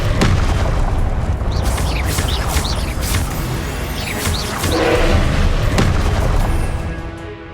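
Confringo spell blasts in the Hogwarts Legacy video game, booming fiery explosions with crackling bursts, loud and dense, mixed with other combat effects and some shouting.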